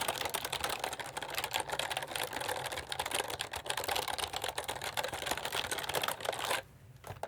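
Typing on an old Dell Workhorse keyboard with big 1980s-style keys, a dense, steady stream of close clacking keystrokes that stops abruptly near the end.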